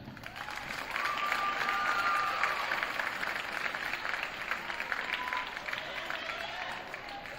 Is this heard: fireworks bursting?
no